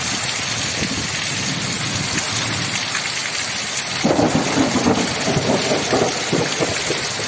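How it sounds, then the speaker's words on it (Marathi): Pre-monsoon thunder rumbles deep and long over steady pouring rain, with a louder rolling clap partway through, close and heavy, and no talk. "कसा आवाज आहे आभाळाचा"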